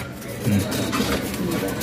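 A racing pigeon arrives back at its loft during training, with soft, low cooing close by against quiet background noise and a voice speaking.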